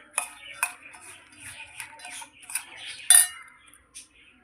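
A spoon scrapes and clinks against a bowl while mixing fenugreek seed pickle, a series of sharp metallic taps and short scrapes at uneven intervals, close and fairly quiet.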